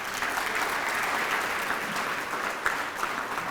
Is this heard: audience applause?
yes